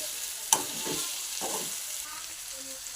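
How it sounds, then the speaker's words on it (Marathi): Brinjal (eggplant) frying in a pan, a steady crackling sizzle with a sharp metallic tap early on and a couple of stirring scrapes, close and without speech. "आपले वांगे बरेचसे चांगले फ्राय झाले आहे."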